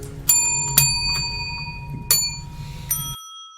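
Hand bells struck several times in turn for a bell check: bright, ringing tones with long sustained overtones, each strike sharp and close, spaced roughly half a second to a second apart before the ringing cuts off.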